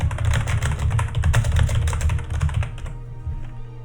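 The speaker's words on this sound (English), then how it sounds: "Yep, I hear the typing." Fast, dense typing on a computer keyboard clatters up close as a steady run of clicking keystrokes, then trails off into a few sparse taps near the end.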